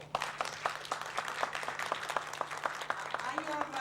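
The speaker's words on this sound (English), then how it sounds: "I want to do a hand of applause for them." A crowd at a teach-in applauds with steady, dense clapping that carries on throughout, with a low hum underneath.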